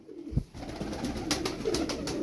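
Roller pigeons coo in soft, throaty bursts close by, with a brief thump early on and a low rumbling background.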